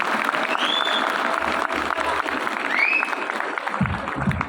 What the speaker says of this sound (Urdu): آپ لوگ بھی تالیاں بجائیں گی کہ آج یہ پروگرام آپ کو کیسا لگا